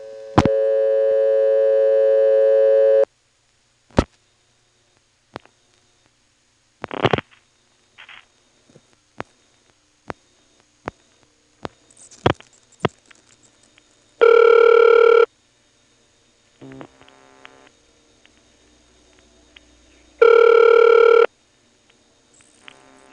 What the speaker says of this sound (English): some Pentaconta-ish clicks occur after the last digit